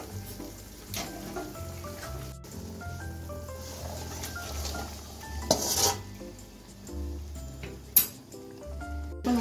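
Mutton fried with spices for mutton kosha is stirred in a pan, with scraping spoon clinks and a gentle sizzle under light background music.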